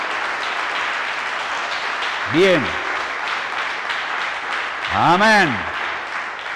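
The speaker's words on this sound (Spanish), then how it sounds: "Démenle un aplauso a Dios, durísimo, que le duelan las manos" A church congregation applauds in a steady, dense wash of clapping that runs throughout, while a voice briefly speaks over it twice.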